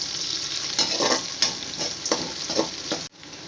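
Green chillies sauté in a hot pan for semiya, a steady bright sizzle broken by several scraping stirs and a clatter near the end, with no talk.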